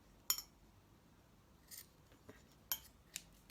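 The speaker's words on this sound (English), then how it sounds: "And then I'm going to just snip off the" Scissors snip trim string off a double knot tied around a bottle neck while making a fishnet bottle, giving a few quiet, crisp cuts spaced apart over a hushed room.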